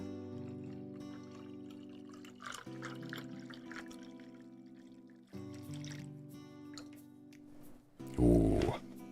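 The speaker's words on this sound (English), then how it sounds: "I need to pour myself some more water real quick." Water pours into a glass in a short trickling burst near the end, loud and close, after a stretch of quiet background music.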